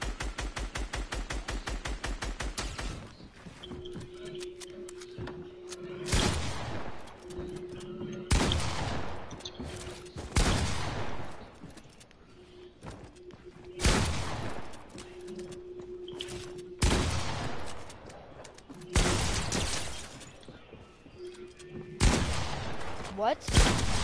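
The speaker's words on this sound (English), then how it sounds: "Shoot at me when I'm falling." Gunfire in the video game Fortnite comes in repeated loud, sharp bursts and rapid volleys, spaced across the stretch with quieter gaps and a steady in-game tone between them.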